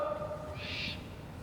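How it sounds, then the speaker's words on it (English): A single faint bird call sounds outdoors near the old Pennhurst asylum grounds, a brief hoot-like note standing out over quiet background hiss. "that was a bird over there"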